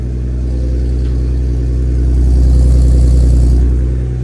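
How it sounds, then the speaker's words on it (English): Exhaust note of a turbocharged BMW E36 idling nearby, a deep steady rumble that swells slightly louder in the middle as the engine lifts a little, with no voices. "Exhaust sounds good."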